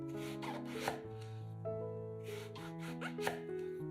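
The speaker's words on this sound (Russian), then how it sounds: "2 средних баклажана моем и нарезаем кружочками." Soft knife cuts slicing eggplant into rounds, a few irregular chops on a board, heard faintly beneath steady background music.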